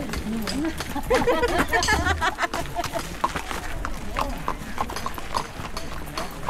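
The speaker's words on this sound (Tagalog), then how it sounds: "Kaya kabayo." A horse walks along a Mount Fuji climbing trail, its hooves clip-clopping in a steady close rhythm while people chatter in the background.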